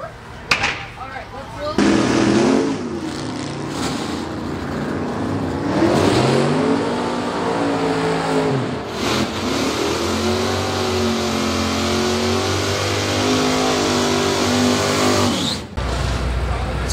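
A race car accelerates on a drag strip bye run, its engine climbing through repeated rising revs in a loud sustained roar for most of the run before cutting off near the end.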